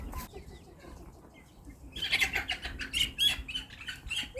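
Barkivska barvysta chickens in a poultry yard burst into loud, agitated squawks and clucks nearby after a quieter opening, with repeated sharp cries in quick succession.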